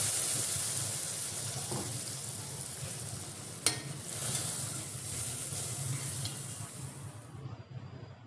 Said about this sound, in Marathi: भाजून झाल्यानंतर मी त्यात थोडंसं दूध ॲड करणार आहे